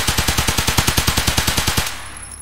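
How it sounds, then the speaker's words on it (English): Steady automatic hip-fire from a rifle aimed at a wall in the video game Escape From Tarkov, about eighteen evenly spaced loud shots in a fast regular rhythm, then a short fading tail. "Just shoot at this wall."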